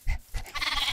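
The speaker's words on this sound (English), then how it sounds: "Sheep! I need to shear you." Sheep bleating in the video game Minecraft, two short close bleats followed by a longer wavering one.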